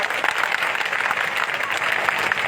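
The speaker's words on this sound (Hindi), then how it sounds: "जोरदार ताली बजा करके स्वागत करिए दोनों साथियों।" A crowd at a political speech by Om Prakash Rajbhar in Maniar, Ballia breaks into dense, steady applause, loud and close throughout with faint voices mixed in.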